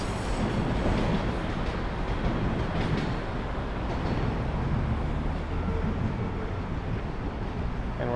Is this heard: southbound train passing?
yes